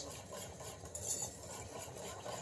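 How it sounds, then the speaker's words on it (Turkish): Thick sauce stirred in a pot with a spoon, a soft continuous scraping and gloopy churning, close but quiet, with a faint background hum and no voices. "Şimdi sosumu iyice karıştırıyorum"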